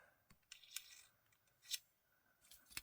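Scissors snip through paper while making a quick scrapbooking card, a few short crisp cuts spaced irregularly, close and fairly quiet with no talking.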